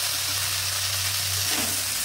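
A ground paste of cumin, coriander and black pepper fries in a pan for a Bengali fish curry, giving a loud continuous sizzle with a low steady hum underneath.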